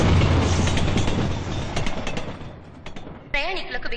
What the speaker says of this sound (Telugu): హౌరా నుండి చెన్నై వెళ్లే 7054 నంబర్ గల హౌరా మెయిల్ 1వ నంబర్ ప్లాట్ఫామ్ కు వచ్చుచున్నది